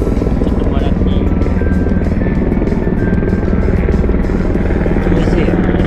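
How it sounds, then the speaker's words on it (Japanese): A helicopter flies overhead, a loud, steady rotor drone throughout, while people talk nearby. "そしてヘリコプター"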